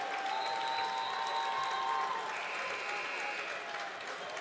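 Steady crowd applause and cheering from the home fans at a high school basketball state final, continuous and loud, with whistles and shouts mixed in and commentary running underneath.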